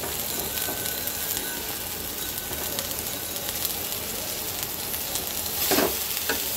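Bottle gourd greens, tender tips and leaves, frying in a pan with a continuous bright sizzle and occasional stirring scrapes, plus a louder clatter near the end.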